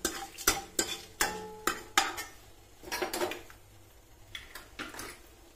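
A metal spoon stirs dried red chillies frying in oil with urad dal, cumin and mustard seeds, giving several sharp scrapes and clinks against the pan over a soft background sizzle.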